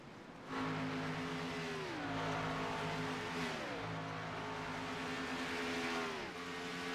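Race cars in a sim racing game pack the Talladega oval, engines droning loud and close with pitches sweeping down as they pass, a continuous roar with no talk.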